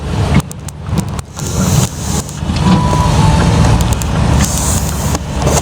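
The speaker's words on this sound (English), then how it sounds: "semi-trailer trucks" Large semi-trailer trucks roll past on a city road in Council Bluffs, Iowa, loud and close, with engine rumble swelling and holding as they pass and a few sharp clanks and hisses early on.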